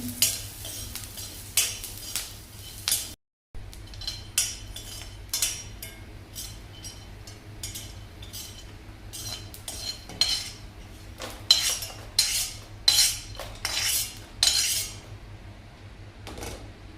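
Whole cloves and black pepper dry-roast in a pan without oil, giving repeated light metallic scrapes and rattling clinks from stirring, irregular and fairly faint, with a steady low hum behind.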